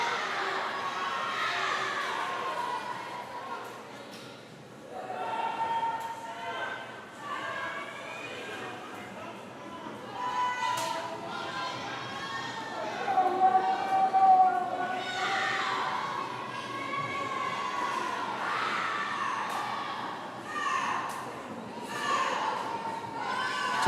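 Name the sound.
crowd cheering at a swim meet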